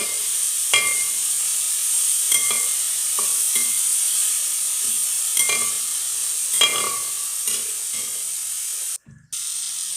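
Chopped tomatoes and green chillies are sautéed in a pan for a Kerala beef fry. A low sizzle runs under sharp, spaced scrapes and clicks of a spoon, ending with a brief cut of near silence.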